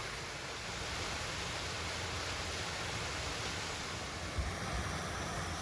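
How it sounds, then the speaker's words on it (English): Waterfalls beside the old Montello granite quarry: a steady, broadband rush of falling water heard from a short distance, continuous and even with no talk over it. "Sometimes these waterfalls on the backside get forgotten."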